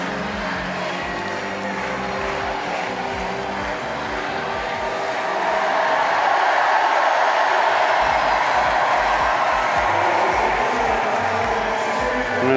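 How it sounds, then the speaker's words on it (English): A sold-out Paralympic swimming crowd at Paris 2024 roars and chants in a broad, continuous wash that swells midway, with a commentator talking over it. "the sold-out crowd chants Alex Portal's name and celebrates his silver medal"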